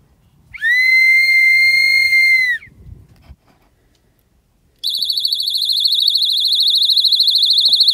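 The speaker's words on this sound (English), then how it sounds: "Our first subject is a whistle." A shrill self-defense whistle blasts once for about two seconds close by, followed after a pause by a steady warbling electronic tone, with no talking.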